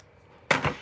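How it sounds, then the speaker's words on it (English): Scissors snip once through woven ribbon at a paper-craft table, a short crisp cut close up in a quiet room, with no talk. "So I'm going to cut that."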